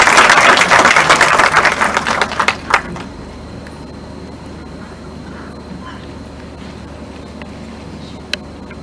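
An audience at a 20th-anniversary celebration event gives a round of applause. It starts dense and loud, then thins out and fades within about three seconds, leaving a quiet room with one faint tap near the end.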